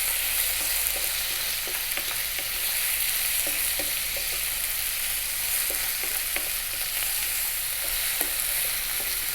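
Beef stir-fries in a hot pan with soy and oyster sauce, giving a continuous loud sizzle and crackle, with scattered light scrapes and taps of the utensil as it keeps moving.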